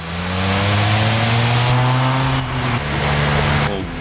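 A Peel P50 engine drones steadily in Forza Horizon 5, a loud, close, buzzing tone that holds, dips slightly in pitch near the middle, then carries on until it cuts off at the end.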